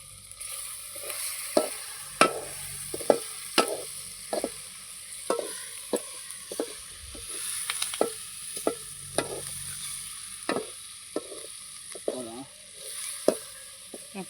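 Native curry leaves frying in a pan while being stirred, a steady sizzle punctuated by repeated sharp clacks of the spoon against the pan at an uneven rhythm.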